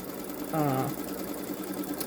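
A Babylock Solaris Vision sewing machine quilting edge to edge, a brief mechanical whirring burst standing out over a steady background drone, faint and close, with no talking.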